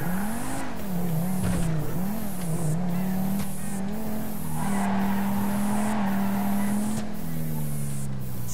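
A car drives in GTA 5 with a modded portal gun, its engine holding a steady loud drone with wavering pitch. Tire skids and swishes come through, along with faint periodic clicks.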